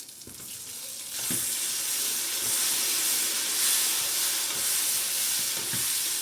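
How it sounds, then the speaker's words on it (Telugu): Cut brinjals (eggplant) land in hot oil in a pan and fry with a loud, steady, close sizzling hiss that holds strong throughout, with a few faint knocks underneath and no talk. "కొంచెం ఆయిల్ హీట్ ఎక్కిన తర్వాత మనం కట్ చేసుకున్న వంకాయలు ఉన్నాయి కదా, అవన్నీ కూడా ఇందులో యాడ్ చేసేసుకోవాలి."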